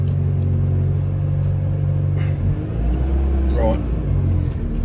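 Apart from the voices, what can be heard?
Toyota AE86 engine revving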